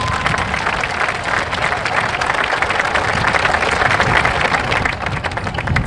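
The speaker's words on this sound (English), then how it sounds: "Everyone give a round of applause for JJ Hall." Audience at a Titusville High School graduation ceremony gives a speaker sustained, loud applause, dense clapping from a large crowd that continues steadily throughout.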